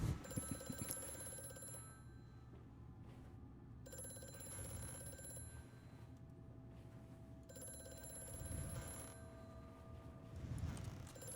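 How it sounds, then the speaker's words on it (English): Telephone ringing in the horror video game Amnesia, a repeating electronic bell tone in bursts over a low droning ambient background, moderately loud with no voices. "Another wonderful phone call we're gonna skip"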